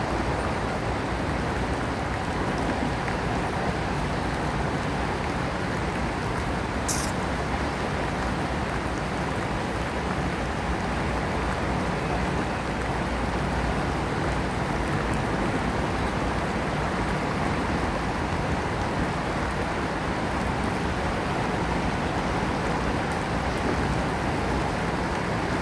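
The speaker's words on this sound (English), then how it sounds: "this rain is getting heavy, man" Heavy rain falls steadily as an even, dense hiss that stays constant throughout, with no breaks or voices.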